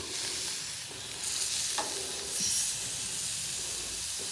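Shrimp sizzle and hiss steadily in a pan over a rocket stove outdoors, with a few scraping stirs as they are turned over, loud and close with no talking.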